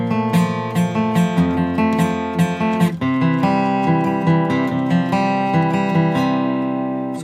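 Steady acoustic guitar chords from the second verse of a song ring out, strummed continuously with a brief change partway through, clear and close with no voices.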